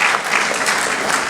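An audience at an Urdu mushaira poetry gathering in Chandigarh claps steadily in a dense, loud burst of applause with no pauses, filling the hall without any voices on top.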